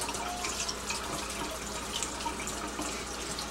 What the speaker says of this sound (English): Just rinse them underwater, just like that, and do that with each one.